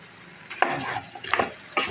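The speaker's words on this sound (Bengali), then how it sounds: "এখন আমি ভেন্ডিটা ঢেলে দিচ্ছি।" Okra pours into a pan of cooked spice paste, giving three short bursts of sizzle and stirring scrape close by, separated by brief pauses.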